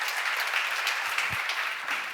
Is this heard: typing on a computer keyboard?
no